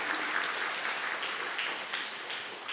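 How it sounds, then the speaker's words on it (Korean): Applause from a church congregation giving praise during a sermon, steady dense clapping that holds throughout without any talk over it. "하나님께 영광의 박수를 한번 올려드릴까요?"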